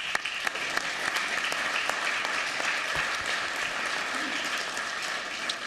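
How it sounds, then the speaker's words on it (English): A legislative chamber audience gives sustained, steady applause, dense clapping filling the room at an even level from start to finish with no speech over it. "I just ask that the body give them a warm round of applause"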